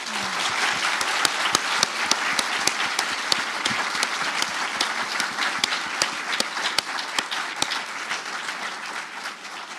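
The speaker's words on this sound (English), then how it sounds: "we'll just have another round of applause for our guests here" An audience at a documentary screening and panel gives the guests a long round of applause, a dense, steady roar of many clapping hands with sharp individual claps standing out, sustained throughout at a moderate distance.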